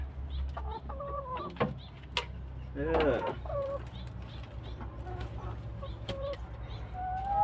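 Chickens on a farm clucking and calling in scattered bursts, moderately close, with a low steady hum beneath and a person speaking briefly among them.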